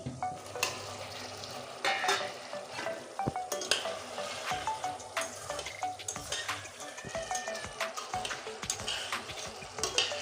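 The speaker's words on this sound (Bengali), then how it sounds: "এখন আমি এই কুচানো টমেটো দিয়ে দিচ্ছি" Chopped tomatoes tossed into a pan of frying taro, with a steady dense sizzle and frequent scraping and clinking of a utensil against the pan, close and continuous with no talk.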